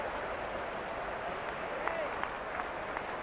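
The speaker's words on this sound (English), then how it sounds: "Ironic cheers from this Lord's crowd for that." Cricket crowd at Lord's during an England versus South Africa Test cheering ironically after a four runs boundary, a steady distant wash of applause and murmuring with faint whistles, and a commentator's voice is present.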